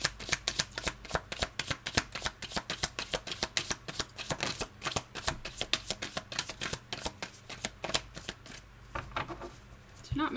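A deck of tarot cards is shuffled in a long, steady run of close, crisp riffling clicks that slows slightly near the end.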